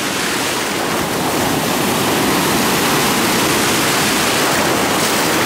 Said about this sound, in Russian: Вон там вот, ух, как волны красиво разлетаются.